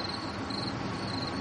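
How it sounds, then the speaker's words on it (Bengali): Crickets chirping without a break on a moonlit night in an open field, a dense, steady, fairly loud trill with no voices. "ঝিঁঝি ডেকে চলেছে একটানা।"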